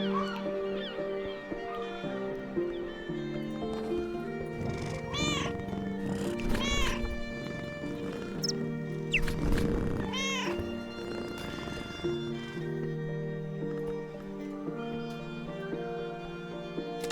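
A cat meows several times in the Book of Hours video game, drawn-out rising calls set over a soft layered music bed.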